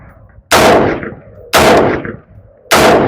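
Three loud, sharp rifle shots fired downrange from an AR-type rifle fitted with a BTB Armaspec buffer. The shots come about a second apart and each one rings out briefly before the next.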